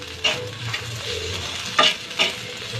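Potatoes fry in a pan with a steady low sizzle, broken by a few brief stirring clatters, close by with no talking.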